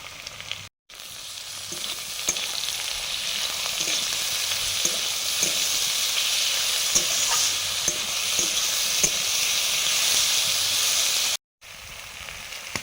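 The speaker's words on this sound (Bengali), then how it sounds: "আলুটা কিছুটা ভাজা হয়ে গেছে" Potatoes fry in oil while being stirred. A steady close sizzle runs under light scraping taps from a utensil and drops out briefly twice.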